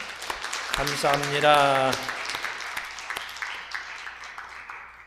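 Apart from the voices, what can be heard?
church congregation applause for spiritual teachers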